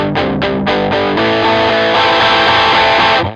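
Distorted electric guitar plays a few quick palm-muted chugs, then lets a bright, crisp chord ring out loud and sustained before it cuts off sharply.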